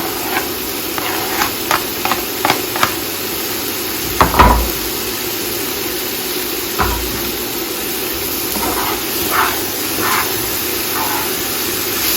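Onions sizzling in a hot pan, a steady hiss with a few clinks and scrapes of a utensil.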